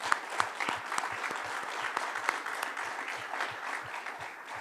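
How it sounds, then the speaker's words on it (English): Applause from a large audience, steady and dense, with scattered claps standing out, for Man City and Mumbai City FC at an Indian football announcement event. "let's have a big round of cheer for Man City and Mumbai City FC"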